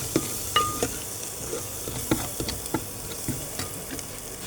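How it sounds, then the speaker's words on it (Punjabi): A tadka of tomato and cream frying in a pan for a Malwa-style ridge gourd curry: a soft continuous sizzle broken by repeated spoon scrapes and taps as it is stirred, close up and without talk. "ਤੜਕਾ ਹੈ ਜਿਹੜਾ ਆਪਣਾ ਚੰਗੀ ਤਰ੍ਹਾਂ ਭੁੱਜ ਚੁੱਕਿਆ ਆ"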